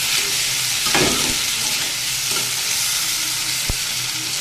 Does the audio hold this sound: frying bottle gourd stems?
yes